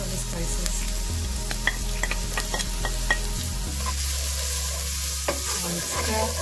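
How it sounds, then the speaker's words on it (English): Egg fried rice seasoned with salt is stirred in a hot pan, giving a steady sizzle broken by repeated scraping clicks of the utensil against the pan, close up with no talking. "Give it a little stir, and then put in the rest of the spices."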